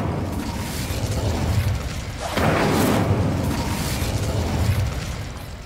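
A fire spell cast in Hogwarts Legacy on PC: a sudden loud whooshing burst of flame erupts partway through over a steady game background rumble, then lingers and fades slowly.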